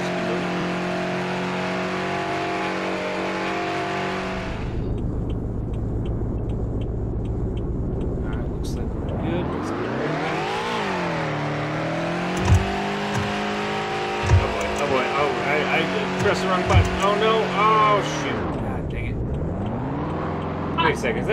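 A car in the Roblox game Greenville drives and speeds up, its synthetic engine tone rising and falling as it revs and shifts, with a steady rumble underneath and someone talking over it throughout.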